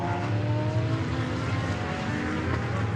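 GT World Challenge race cars, including a pair of BMWs battling, roar through the turn 10 left-hander at the Barcelona circuit in a loud, steady multi-engine drone that holds at full volume throughout.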